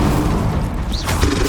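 Spell explosions from Bombarda and Confringo in Hogwarts Legacy, a dense run of loud booming blasts and thuds packed closely together over a continuous roar of combat effects, with no speech.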